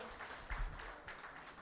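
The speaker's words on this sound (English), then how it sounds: "A big round of applause for Mr." An audience at a skills and entrepreneurship forum in Mumbai claps for a consular guest, a soft, distant patter of many hands, brief and quiet.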